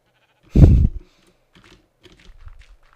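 In the Minecraft video game, a sheep gives a single short bleat up close, followed by faint scattered clicks.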